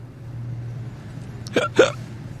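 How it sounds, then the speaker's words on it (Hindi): Two sharp hiccups come close together near the end, abrupt and close, after a stretch of quiet low hum. "hiccup is essentially an involuntary spasm of the diaphragm which causes sudden closure of the epiglottis"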